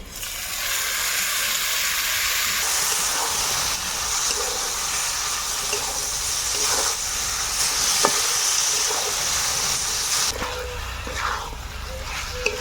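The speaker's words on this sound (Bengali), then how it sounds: "এবার মেখে রাখা মাংসটা ছেড়ে দেবো" Marinated mutton goes into a pan of fried onions and dried chilli and sizzles loudly and continuously, with occasional stirring clicks over the steady frying hiss.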